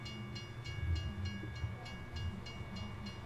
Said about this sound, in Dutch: Dan is die trein voor de oprit, hè?